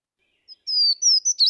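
A warbler that breeds in the Dismal Swamp sings a short, high, thin song: a brief tick, then a run of bright sliding whistled notes that quicken toward the end, clear and close against silence.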